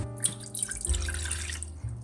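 Water runs steadily into a pot, a close trickling pour with small splashy drips, fairly quiet.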